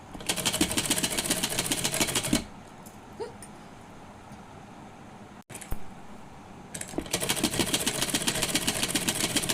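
A sewing machine stitches a daily-wear gown made from an old saree, running in fast rhythmic bursts at close range, stopping for a few seconds of quiet handling, then resuming.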